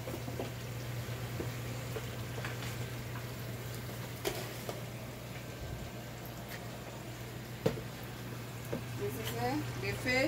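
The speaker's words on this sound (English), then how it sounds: "The fish, I'm frying it." Steady sizzling and crackling of fish frying in hot oil, with a constant low hum underneath and a few sharp clinks from utensils.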